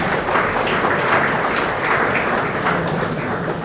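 An audience at a React developer meetup in Ahmedabad giving volunteers a round of applause, dense, loud, close clapping from many people, steady for the whole stretch and easing slightly at the end.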